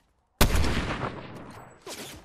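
A single loud gunshot in a battle royale video game, fired in a ranked match in an underground area, cracks sharply, then a rolling echo decays and a fainter second report follows.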